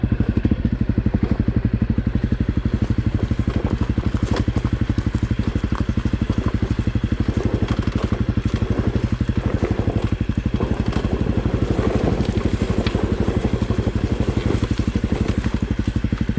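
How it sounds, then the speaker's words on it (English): A 2017 Honda CRF250L dirt bike fitted with a Yoshimura exhaust rides along a trail, its single-cylinder engine thumping in a steady, moderately loud drone throughout with light rattles from the terrain. "even with this Yoshimura pipe on here, it's not a super loud bike"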